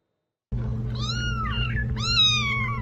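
A cat meows twice, close and clear, long drawn-out calls separated by a brief pause, over a low steady hum.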